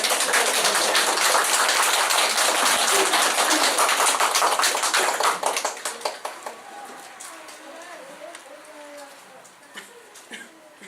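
Audience at a talk in Chuncheon bursts into loud, dense applause that holds for several seconds, then thins into scattered individual claps and fades out, with a few late claps near the end.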